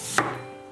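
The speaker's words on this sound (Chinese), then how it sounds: "再准备一个洗净去皮的土豆，先切薄片儿" A single crisp knife stroke through a peeled potato onto a cutting board while slicing it thin, one sharp, close tap followed by a quiet tail.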